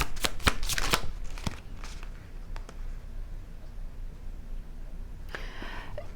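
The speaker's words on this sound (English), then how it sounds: "Let's pull a couple more cards on your person" Tarot cards are shuffled and pulled for an Aries reading, with quick flurries of crisp riffling and slaps early on, then quieter handling and a soft rustle near the end.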